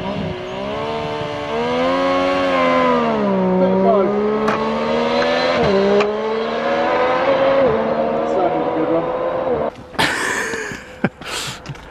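A motorcycle engine, from a Triumph Street Triple RS, Yamaha MT-09 SP or MV Agusta Brutale 800 RR group, runs loud and close with a steady, slowly rising pitch, cutting out near the end before sharp bursts as people talk nearby.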